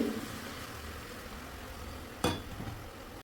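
Roasted flattened rice (aval) is stirred into jaggery syrup over a low flame, making a soft continuous sizzle and scraping under a quiet room, with one sharp clink of a utensil against the pan.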